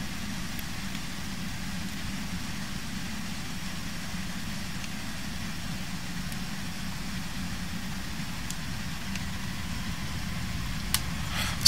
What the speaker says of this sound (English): Bring the engines back.